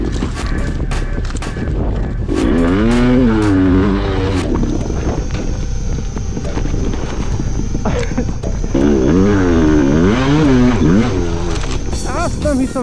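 Enduro motorcycles ride and rev hard, engines whining up and down in two wavering bursts over a constant roar, with voices mixed into the noise.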